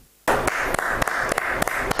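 Applause in a TV studio starts abruptly after a brief silence and keeps going as a dense, even wash of clapping, with a few sharper individual claps standing out.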